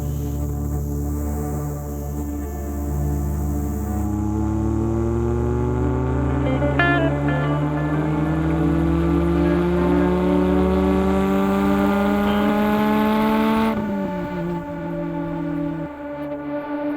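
A Lotus Elise's stock 192 hp Toyota engine with variable valve timing revs up steadily toward 9,000 rpm, pitch climbing for several seconds before dropping sharply, then idling again; loud and close, no talking.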